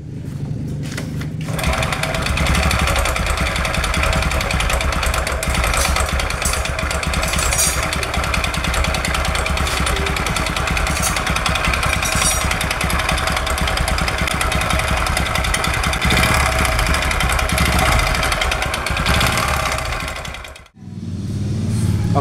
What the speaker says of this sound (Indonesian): kita dengar sama-sama suara sebelumnya, suara pertama kali datang motor ini seperti apa suaranya